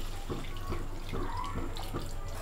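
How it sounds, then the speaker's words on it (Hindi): Water is added to cooked Kashmiri mutton rogan josh in a pot over the flame, a soft continuous pouring and splashing of liquid with light drips, heard close and alone. "अब मैं इसमें पानी ऐड करूँगी"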